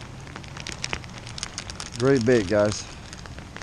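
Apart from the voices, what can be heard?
rain falling at a pond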